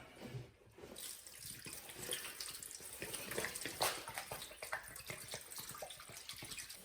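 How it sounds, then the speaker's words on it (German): Cleaning fluid pours into and sloshes inside a Yamaha XT500 motorcycle frame, a steady close splashing wash of liquid running continuously without a break. "Also können wir im nächsten Schritt jetzt den Rahmen mit Reinigungsmittel befüllen"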